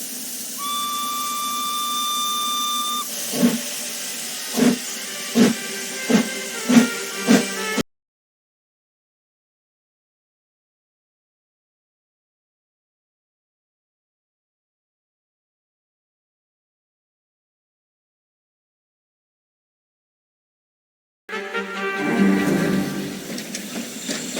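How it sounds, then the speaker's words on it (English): A steam train's whistle sounds, followed by a series of sharp rhythmic chuffs and hisses from the nearby steam engine, then silence and a final burst of rumbling. "Fogg and Passepartout get on the train"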